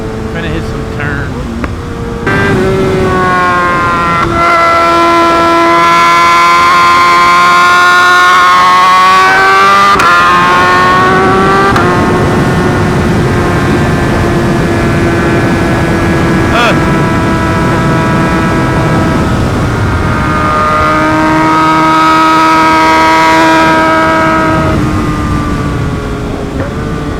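A 2023 Kawasaki ZX6R rides through turns, its loud, close engine climbing and falling in pitch as it revs up and eases off through the bends, with wind rush underneath throughout.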